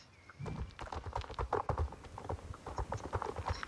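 Hooves clip-clop in a steady, brisk rhythm from a horse in a video game, a level 2 horse racing against the clock, close and fairly quiet with no talk over it.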